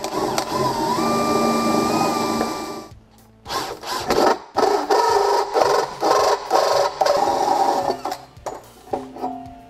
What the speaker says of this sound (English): To do that, we obviously need to drill some holes first.